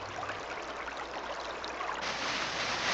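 Acidic water pumped from underground mines trickling down through copper leach dumps, a faint, steady, hissing trickle with no other sound.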